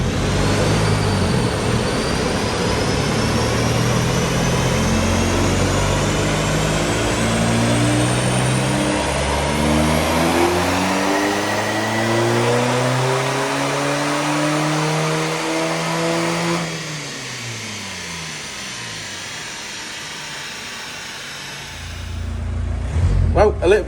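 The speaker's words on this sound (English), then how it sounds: "let's get it on the dyno and see what she puts out" A Skiller Turbo car on a rolling road dyno revs hard and loud, with the engine note climbing steadily through a long pull. Near the end the revs drop away, and it settles to a rougher idle.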